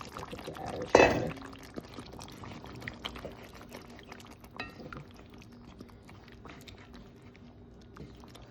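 Water poured into a cooking pot of Jamaican stewed chicken, a loud splashing burst near the start followed by quieter clinks, bubbling and kitchen handling sounds, no voices.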